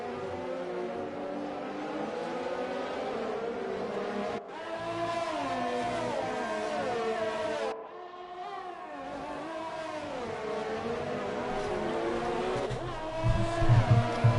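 Formula 1 cars in a racing game at the Australian Grand Prix, engines whining and shifting through rising and falling pitches, several cars close together, with brief breaks where one passes or fades.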